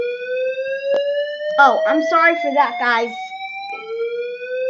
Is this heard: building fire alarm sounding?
yes